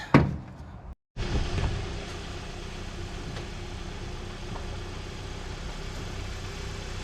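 Ford Fairlane engine, primed with carb fuel, turning over and catching into a steady low idle after a brief silent gap, running continuously at moderate level with no talk.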